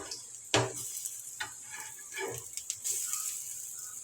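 Bread bajji frying in hot oil, a continuous bright sizzle punctuated by a few scraping clinks of a dosa ladle as pieces are turned, close and fairly quiet.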